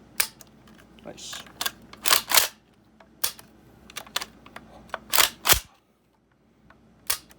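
A CETME rifle fitted with a metal trigger housing is cocked and dry-fired, giving sharp, close mechanical clacks and snaps in irregular bursts with quiet gaps between them. A voice speaks briefly.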